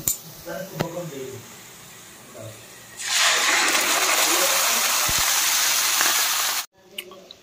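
Water pours into a pan of frying onions and masala, a loud steady rushing hiss lasting several seconds before cutting off abruptly, with faint kitchen sounds before it.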